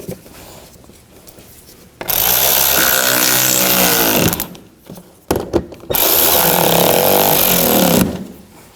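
Two loud bursts from a power drill driving screws while a parking light assembly goes onto a 2009–2017 Chevy Traverse, each whirring for a couple of seconds and winding down, with quieter handling noise between them.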